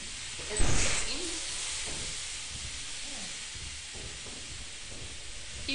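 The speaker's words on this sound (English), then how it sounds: "It's steam." Steam hissing in the video game Lethal Company, a continuous airy hiss that bursts louder early on then settles into a steady wash, with players talking quietly over it.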